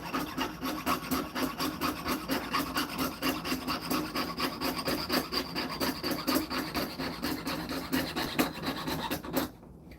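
A saw cuts a sand-cast metal grenade off its sprue in a continuous run of fast, even rasping strokes, close and loud, that stop abruptly near the end.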